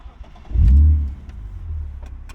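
A 1998 BMW E36 M3 engine cranks and catches with a loud, deep low burst, then settles into a steady, quieter idle rumble nearby.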